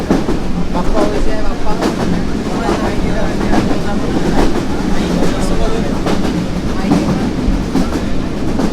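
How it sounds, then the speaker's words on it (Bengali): A train rumbles steadily along the rails, its wheels clattering in a continuous rhythm, loud and close as if heard from on board. "আমাদের ট্রেন যাত্রা চলমান আছে"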